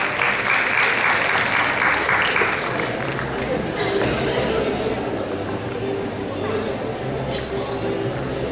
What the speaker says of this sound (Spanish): Recibamos con un aplauso al maestro Rigoberto Riley Mata Villanueva